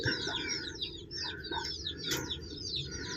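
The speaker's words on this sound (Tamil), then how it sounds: "இப்படி க்யூட்டாக மேய்து பாருங்கள் கோழி குஞ்செல்லாம்." Dense, high-pitched chirping from many native chicken chicks, continuous and overlapping, with a soft background murmur and no talking.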